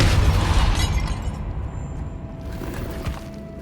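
A Confringo blasting spell goes off in the video game Hogwarts Legacy, a loud booming explosion with crackling debris at the start that decays into a rumbling tail and lingering low ambience.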